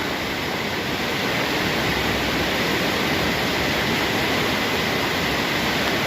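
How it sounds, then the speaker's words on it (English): Underground river rushing through a cave it has carved, a steady, dense roar of flowing water filling the space without pause. "pretty sure this is an underground river that we're looking at right now"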